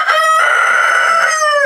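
One of a small group of roosters lets out a single long, loud crow close by, with no voices.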